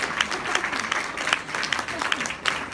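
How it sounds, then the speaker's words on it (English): A keynote audience applauds, a moderate, continuous patter of many hands clapping, fairly close and even throughout. "Now, applause, please."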